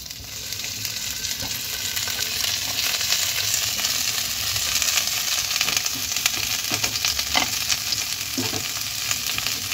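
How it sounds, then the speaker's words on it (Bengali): Spiced cauliflower florets frying in hot white oil, a steady dense sizzle that holds for the full stretch, close and fairly loud, with occasional soft stirring clinks and no talking. "সাদা তেলটা গরম হলে আমি এতে মশলা মাখানো ফুলকপিগুলো দিয়ে দেব।"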